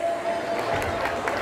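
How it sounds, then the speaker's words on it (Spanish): Dancers at an anniversary dance in Xalpatlahuac, Guerrero get a burst of crowd applause and light cheering. The clapping is moderately loud and steady, with a faint musical tone held underneath. "aplauso para ustedes, los bailadores"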